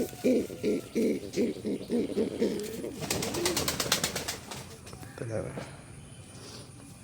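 Fantail pigeons and chicks, close rhythmic cooing in a steady series of pulses, then a rapid fluttering burst and softer calls fading into background noise.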